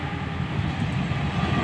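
A CC206 diesel locomotive hauls a train of container freight wagons, giving a steady, loud rumble with continuous rolling rail noise and no distinct breaks.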